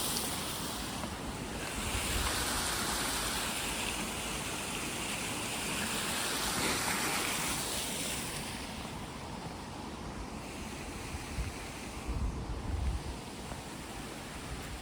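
Large volume of water rushing into a canal lock chamber, a steady loud roaring surge with wind buffeting the microphone, continuous for about fifteen seconds.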